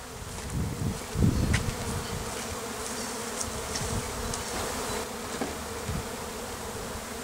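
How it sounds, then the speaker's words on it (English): A dense, continuous drone of many buzzing honeybees surrounds the listener, with individual bees zipping close by now and then. "I'm in the middle of a swarm."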